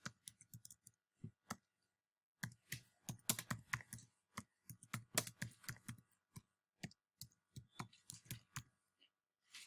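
Quick bursts of typing on a computer keyboard, crisp close clicks coming in irregular clusters with short pauses between, alone and fairly quiet.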